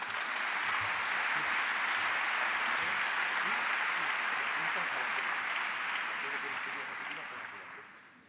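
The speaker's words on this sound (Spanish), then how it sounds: "Un aplauso muy fuerte para Carla Sanchís." An audience gives loud, sustained applause for a speaker at the Naukas 2017 science talk event. The dense clapping fills the hall and fades out at the end.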